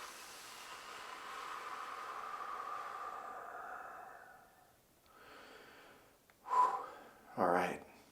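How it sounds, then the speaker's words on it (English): A long, airy exhale through the mouth during a slow breathing exercise, steady for several seconds and then fading, followed by a couple of short, sharper breathy bursts. "Exhale through the mouth."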